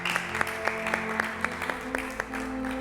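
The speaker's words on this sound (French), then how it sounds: "Merci de vous applaudir." Applause for contestants in a cooking competition rings out as a run of rhythmic claps in unison, fairly soft and moderately close, with a faint murmur underneath.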